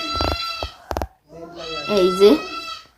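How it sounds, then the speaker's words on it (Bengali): Baby goat bleating in a rural home, a few wavering cries rising near the end, mixed with people talking close by. "ছাগলের বাচ্চা খুব ডাকাডাকি করতেছে"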